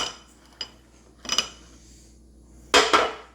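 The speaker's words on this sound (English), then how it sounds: "Do not handle these casserole dishes with bare hands." Ceramic casserole dishes are handled in a home kitchen during rice pudding preparation: a few sharp clinks and clatters, one single knock and then two clustered bursts, sound against a quiet background.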